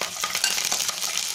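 Garlic and mustard seeds frying in oil while being stirred, a bright continuous sizzle with scraping stir strokes, close and steady with no voices.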